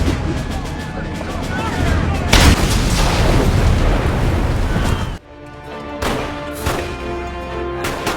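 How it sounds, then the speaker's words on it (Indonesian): A Ferris wheel blows up in a film scene with bandits, a loud, sustained explosive roar lasting several seconds before cutting off sharply, followed by rumbling aftershocks and a voice. "untuk menangkap Ron, ia pun kabur dan meledakkan biang lala hingga menjadikan tempat tersebut kuburan para bandit"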